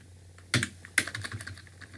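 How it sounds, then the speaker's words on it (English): A computer keyboard gets a few quick keystrokes, two sharper clicks followed by a light run of taps, close and fairly quiet in an otherwise still room. "now again I will type"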